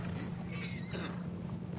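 A horse in Red Dead Redemption 2 gives a short whinny over a steady low hum of game ambience, close and fairly loud within a brief moment.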